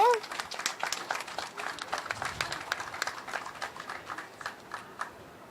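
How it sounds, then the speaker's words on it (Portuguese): A crowd applauds steadily, many hands clapping in a dense patter that continues for several seconds before easing off. "Un fuerte aplauso."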